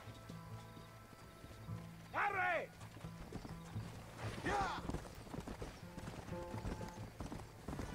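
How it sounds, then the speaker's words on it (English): Horse hooves clip-clopping at a gallop in the Red Dead Redemption video game, with two sharp whinnies cutting through and voices talking faintly alongside. "Mount your horse!"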